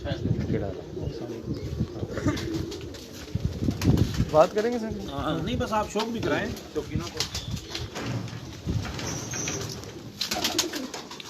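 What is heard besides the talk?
pigeons cooing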